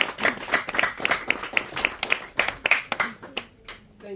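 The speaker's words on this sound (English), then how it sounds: "Please give them a round of applause." A small crowd at an engagement ceremony claps in a loose, rhythmic patter of nearby handclaps that thins out and fades toward the end.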